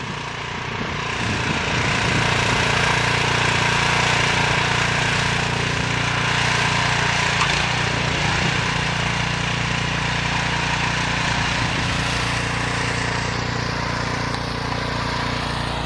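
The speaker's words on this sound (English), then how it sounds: "There's the new snow blower." A new snow blower engine runs steadily during a heavy snowstorm, a loud continuous motor drone held close with no talk.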